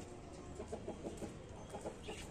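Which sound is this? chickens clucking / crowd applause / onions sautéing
chickens clucking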